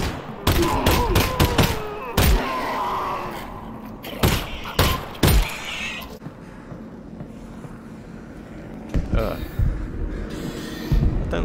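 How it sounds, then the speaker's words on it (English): Gunfire in the shooter game Half-Life Alyx: loud sharp shots come in quick irregular bursts, some rapid volleys and some single heavy thuds, with people talking and exclaiming in between. "That was two shots."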